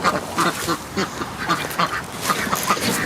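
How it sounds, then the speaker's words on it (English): A group of ducks quacks repeatedly in short, uneven bursts near a garden potato bed mulched with grass clippings, fairly close and lively, with no talk. "You can hear my ducks are very keen to come and root through this"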